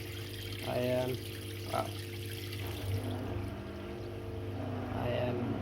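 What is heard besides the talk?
two washing machines running at the same time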